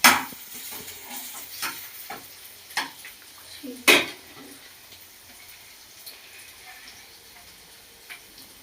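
Egg whites fry in a pan for prawn fried rice, a faint sizzle broken by crisp spatula clicks and scrapes at uneven intervals, close and fairly quiet.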